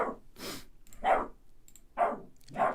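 A dog named Jameson barks from under a couch indoors, four or five short, muffled barks spaced about a second apart, fairly close and moderately loud.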